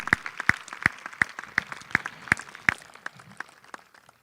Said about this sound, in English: give my wife Jimmy a round of applause as she sits over there